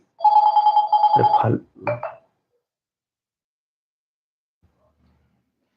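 A mobile phone rings with an incoming call during a live stream, giving one short electronic tone-melody burst lasting about two seconds. Brief speech follows, then near silence.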